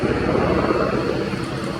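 Czech Air Force PZL-Swidnik W-3A Sokol helicopter flying a pair display at an air show, a loud, steady rotor and turbine rumble heard alone and close.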